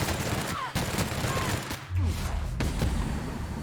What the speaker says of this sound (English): Even on hard mode, this weapon just rips and tears at a low level.